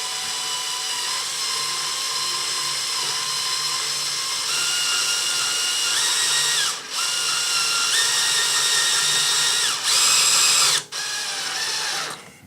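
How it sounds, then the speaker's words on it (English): A power drill fitted with a pilot bit bores a 7/16-inch hole during an aircraft fuel filler line installation. Its motor whines loudly and continuously, and the pitch shifts up and down as load changes, with a few brief drops near the end. "it's going to drill a little bit of pilot hole before it gets to the 7/16"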